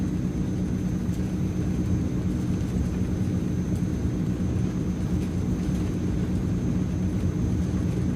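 Transall C160 twin turboprop cargo plane on its takeoff roll in Microsoft Flight Simulator, a steady loud engine drone with a thin high whine, continuous and unbroken throughout.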